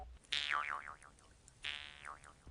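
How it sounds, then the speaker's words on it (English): Twanging Jew's harp sound effect shaped by a human performance, two boingy bursts, each with a bright attack followed by a wobbling, bending pitch that fades out, close and alone. "The human performance is driving the shape of the twanging Jew's harp."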